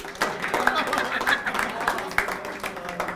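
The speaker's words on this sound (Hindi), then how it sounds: "हाँ तो अरविंद को भी तालियों के साथ बजाओ फिर" Audience at a Hindi poetry gathering clapping for the poet Arvind, a lively close round of many hands with distinct sharp claps standing out over a steady crowd patter, with some voices mixed in.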